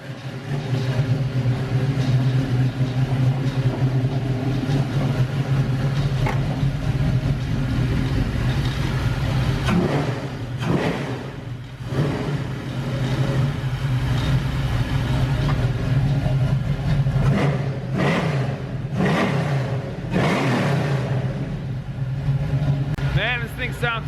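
An LS V8 swapped into a Camaro idles with a deep, steady throb and a few short revs in the middle and near the end, while people talk nearby.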